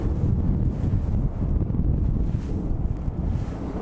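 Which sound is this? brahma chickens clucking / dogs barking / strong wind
strong wind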